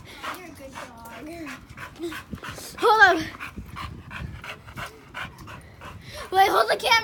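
A dog pants and whimpers close by in short bursts, mixed in with excited human talk and a couple of louder yelps partway through.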